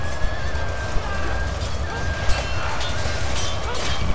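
Horses whinny amid the steady din of a Shogun 2 Total War battle as warrior monks with naginata spears cut them down on a ramp; a neigh rises over continuous clashing and crowd noise, with a few sharp impacts.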